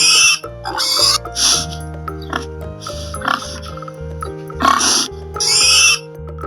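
Repeated oinks from a pig come in short bursts over a steady backing melody, fairly loud and close, with no voice over them.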